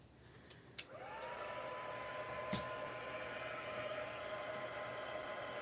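A hair dryer drying a craft project blows steadily at close range, a constant whooshing roar with a high whine, preceded by a couple of brief clicks as it starts.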